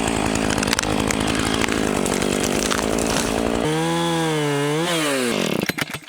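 A chainsaw rumbles through tree felling on an off-grid cabin project, a loud steady engine roar whose pitch dips and climbs under load before cutting off near the end.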